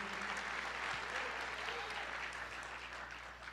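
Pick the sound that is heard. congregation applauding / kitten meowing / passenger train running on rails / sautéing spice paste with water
congregation applauding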